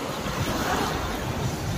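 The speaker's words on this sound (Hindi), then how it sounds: "समुद्र के लहरें किस टाइप का आ रहे हैं" Sea waves at Digha beach in West Bengal roll in as a continuous broadband wash of surf, mixed with wind buffeting the microphone, steady and fairly loud, with no voices.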